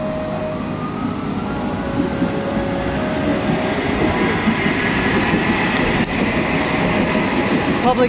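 A tram passes along a street in Istanbul during a weekend lockdown, its steady rolling rumble and rail noise continuing loud and close throughout, with faint clicks and a brief squeal from the wheels.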